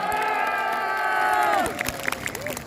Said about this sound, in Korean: 여러분 박수 함성 한번 주십시오